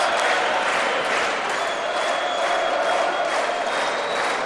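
A packed boxing crowd in Concordia roars in a sustained ovation for the winning boxer after a WBC fight, a dense wash of cheering and applause with no break.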